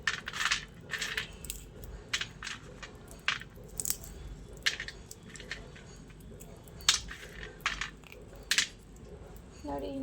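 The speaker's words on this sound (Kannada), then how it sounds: "ಇದೆಲ್ಲ ಹಾರಾದಮೇಲೆ ಹಿಂಗೆ ಸಿಪ್ಪೆ ಬಿಡಿಸ್ಬೇಕು. ಈ ಥರ ಸಿಪ್ಪೆ ಎಲ್ಲ ಬಿಡಿಸ್ಬೇಕದು." Roasted peanuts have their papery skins rubbed and peeled off by hand, giving scattered dry crackling rustles and small crunchy bursts, close and fairly soft.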